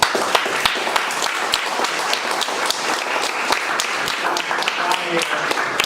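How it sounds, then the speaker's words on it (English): Steady applause from a crowd at a squash banquet, dense clapping filling the space for several seconds with no pauses. "give a round of applause to the coaches and assistants"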